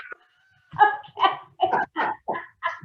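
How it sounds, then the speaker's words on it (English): A dog barks six times in a steady, evenly spaced run, close by and fairly loud, with no other sound between the barks. "Dog."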